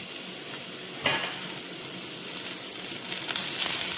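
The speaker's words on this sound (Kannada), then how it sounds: "ಇವಾಗ ಆನಿಯನ್ ಹಾಕಿದೆ." Onion fries for an aloo bhindi curry in a pan over a medium flame, giving a steady close sizzle with occasional stirring scrapes that grows slightly louder toward the end.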